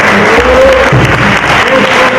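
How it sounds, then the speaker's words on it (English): An audience at a Black History Month program claps in a round of applause for a county community services official, loud and close, a brief dense burst with a murmur of voices underneath. "a round of applause for the outstanding job that he has done"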